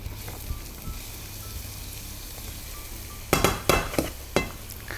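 Onions for a meat pie filling sizzle in a pan, a steady low fry, then a burst of clattering stirring strokes near the end, close and fairly loud.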